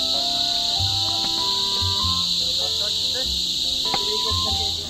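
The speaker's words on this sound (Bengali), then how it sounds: "আর ঝিঝি পোকার আওয়াজটা এত সুন্দর লাগছে" Crickets chirp on a mountain trek in a loud, steady high-pitched drone that runs throughout, with scattered faint tones and low thumps beneath it.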